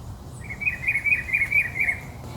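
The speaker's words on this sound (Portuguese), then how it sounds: "olha que lindo, um sabiá, ó, sabiá" A sabiá (rufous-bellied thrush) sings in the countryside near Itu, a string of about six bright, quick chirping notes in a steady rhythm, moderately close over faint low background rumble, with no talking.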